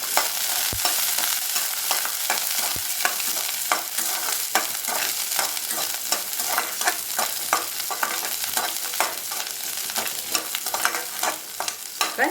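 Shallots, ginger and garlic sautéing for brinjal chutney, a steady close sizzle broken by frequent stirring scrapes and clicks of a spoon against the pan, with no voices.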